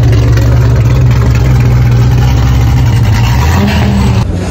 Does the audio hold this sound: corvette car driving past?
yes